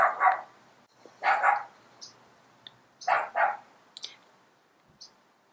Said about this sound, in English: There's a dog barking outside, and it's our dog, and he's being bad.